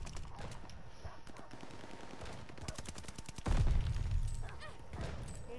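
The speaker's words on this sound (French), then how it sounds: "je préfère tout de suite tirer au flingue" Rapid gunfire in Call of Duty Vanguard crackles in quick bursts over steady game background noise, and a heavier blast or rumble swells midway before the firing continues.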